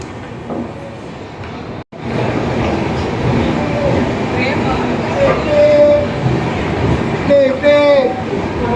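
The Pothigai Superfast Express, running from Sengottai to Chennai near Virudhunagar Junction in Tamil Nadu, makes a loud, steady rumble of wheels on rails. Tonal squeals rise over it toward the end, and a voice may be faintly present.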